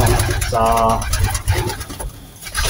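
A pigeon's soft throaty coo close by in a pigeon loft, with a rumbling background and faint vehicle noise, brief and low.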